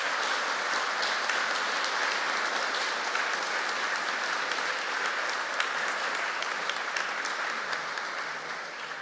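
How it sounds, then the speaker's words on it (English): Audience applause at a college graduation ceremony: a dense, even wash of many hands clapping that holds steady at full strength for several seconds. "A big round of applause for all,"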